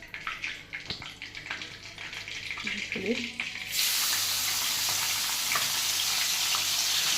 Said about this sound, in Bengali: এবার এখানে ইঁচড় চিংড়িগুলোকে আগে ভেজে নেব